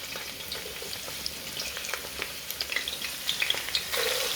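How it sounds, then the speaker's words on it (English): Onions and garlic fry in hot oil in a pot, giving a steady close sizzle with scattered pops and crackles that grow a little busier toward the end; no voices. "before the oil gets too hot, I add my onions and garlic"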